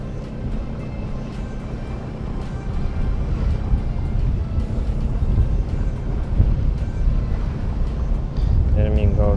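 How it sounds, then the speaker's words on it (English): Sailboat motoring under engine power on a delivery trip with sails down, a low steady engine rumble mixed with wind buffeting the microphone and water noise, continuous and close, with a voice briefly at the end. "we don't use the sails, only the engine"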